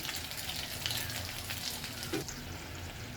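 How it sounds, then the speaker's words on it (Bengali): A Mughlai paratha with egg filling fries in oil in a wok, giving a steady, close crackling sizzle that carries on alone without pause. "বন্ধুরা আমার কড়াইতে একটা মোগলাই হচ্ছে"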